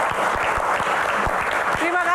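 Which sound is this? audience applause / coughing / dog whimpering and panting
audience applause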